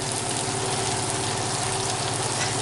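Philly cheesesteak filling of meat and vegetables frying on a stovetop, a steady dense sizzle with crackling spatter holding at an even level throughout, no voices over it.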